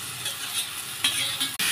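Chopped tomatoes drop into onions frying in oil for a chicken curry, giving a steady close sizzle with scraping stirs and a sharp clatter near the end.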